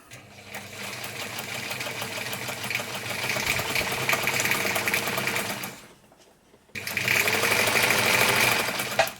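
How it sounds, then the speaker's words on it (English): Singer 190 sewing machine stitching on scrap fabric, a close steady rapid mechanical whir that runs, stops briefly for about a second, then resumes. "Just sew on a piece of scrap like this until it clears itself."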